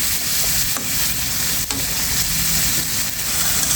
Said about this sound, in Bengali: এখন একটু নেড়ে ছেড়ে দিচ্ছি